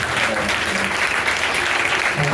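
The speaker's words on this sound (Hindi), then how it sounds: "फिर से जोर से खुदावन के कलाम के लिए जोर से ताली बजाएं।" Church congregation clapping together in steady, dense applause that fills the room, loud and continuous throughout with no break.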